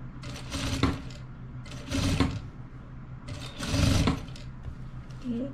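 A sewing machine stitches the collar of a pair of pajamas in three short mechanical bursts, a steady whirring hum with rattling needle action, separated by brief pauses and close to the listener.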